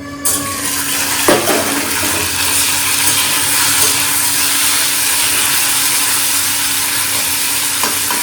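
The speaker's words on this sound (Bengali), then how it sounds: "তো প্রথমে এই সজনাটা ছেড়ে দিই" Drumsticks dropped into hot spiced oil with dried chilli and five-spice, a loud, continuous sizzle and crackle close by, with a brief clatter early on and steady frying after, no talk.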